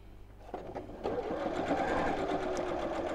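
A sewing machine runs steadily, stitching around the edge of a fabric wine glass coaster. It starts with a few stuttering stitches, then settles into a loud, continuous whir heard close up with no voice.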